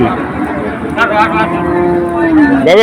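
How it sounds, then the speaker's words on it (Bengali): At a busy cattle market, a cow lets out one long, loud moo that rises and holds, set against the chatter of people talking close by. "খুব সুন্দর একটা গরু হাট"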